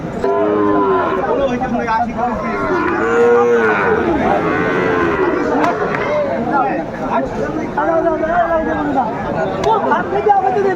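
Sahiwal cattle at a Noakhali livestock market moo repeatedly, loud and drawn out, amid constant crowd chatter and nearby talking.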